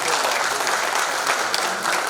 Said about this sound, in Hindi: अपने लिए आप जोरदार ताली बजाएं